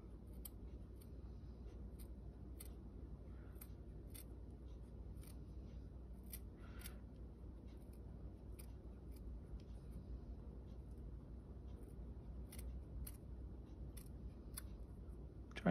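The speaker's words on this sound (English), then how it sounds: "then I just cut around" Scissors snipping around fabric for a handmade gnome baseball cap, a run of short, crisp closing clicks at a steady pace over a quiet room hum.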